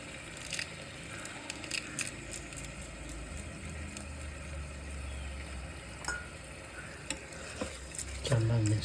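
Mutton biryani being stirred in a hot pan, a steady sizzle with repeated scraping and clacking of a spoon against the metal, close by, ending in a louder thump, no speech.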